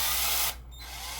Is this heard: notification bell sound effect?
no